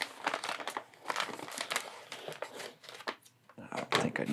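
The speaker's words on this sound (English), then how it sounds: "Alright, so I'm going to go ahead and start opening this one up" Packaging of a Marvel Legends action figure is torn and opened, giving close, irregular bursts of crinkling and ripping plastic and cardboard that continue for several seconds.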